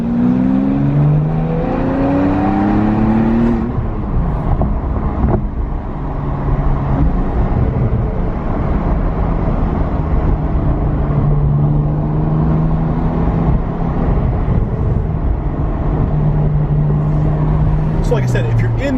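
A 2020 Porsche 992 Carrera 4S driving and accelerating, engine note rising through gears early then settling into a steady loud cruising drone with road noise throughout.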